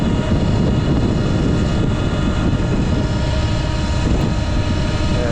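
Heavy wind buffets the rider of a 2022 Sur Ron X electric bike at around 45 mph, a loud, continuous low roar and rumble that persists throughout with no talking.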